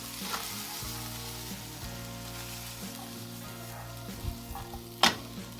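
Chayote shoots stir-fry with soy sauce in a pan, a continuous gentle sizzle broken by a few stirring scrapes and a sharp clatter near the end, with no talking.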